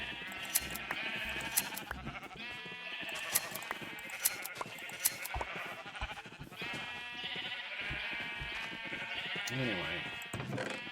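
Sheep in a video game bleat repeatedly over a dense, busy bed of game music and effects, their cries coming steadily throughout at a moderate level.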